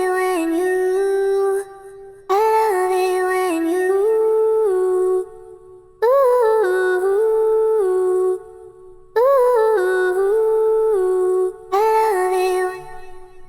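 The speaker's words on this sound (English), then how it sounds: "final kind of instrument that we have is a little vocal sample from Arcade" A short vocal sample from Arcade plays as sustained sung phrases in repeating bursts separated by brief gaps, fairly dry with a touch of reverb, loud and alone.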